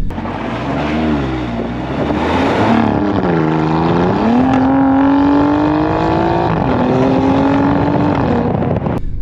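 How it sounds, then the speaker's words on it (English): A 2020 Alfa Romeo Giulia Quadrifoglio engine revs upward into a rising, howling whine, holding a loud, steady tone near the microphone with some wind noise. "as you get higher up in the rev range, it starts yowling and howling"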